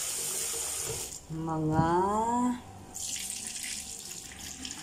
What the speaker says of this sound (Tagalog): Akin munang huhugasan at palulutangin natin yung ibang